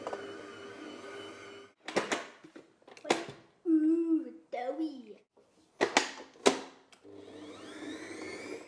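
Electric stand mixer kneading hot cross bun dough: a steady motor whirr runs at the start and again at the end, broken in the middle by a voice and clattering knocks.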